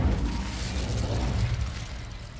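The Incendio fire spell in Hogwarts Legacy makes a steady, heavy roaring fiery blast with deep rumble throughout, loud and close, with no voices.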